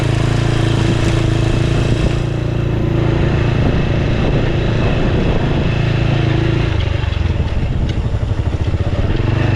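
A motorcycle engine labors steadily and loudly throughout, pulling hard up a rocky uphill trail near a river in San Miguel, Santo Tomas, Batangas, its low drone roughening into a chugging pulse toward the end.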